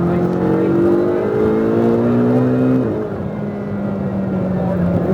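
Ferrari 488 GTB accelerating on a track, its engine note climbing steadily in pitch for about three seconds before dropping as the revs settle, loud and close throughout, with the sound of driving under way.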